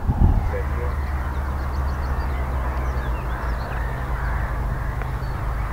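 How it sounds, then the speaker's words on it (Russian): Gulls crying by a pond on a camping and fishing trip to the quarries, with a steady ambient background under a scatter of repeated harsh calls. "Даже музыку никакой накладывать не надо. Чайки орут."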